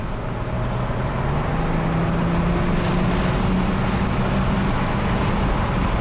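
A Hyundai with repaired GDI injectors drives on a test run, giving a steady, continuous rumble of engine and road noise inside the car with no talking.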